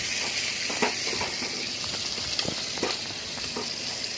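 Onions for a sardine fish curry (mathi meen kulambu) sautéing with salt in a pan, a steady close hiss and sizzle with scattered scraping stir clicks, no voices.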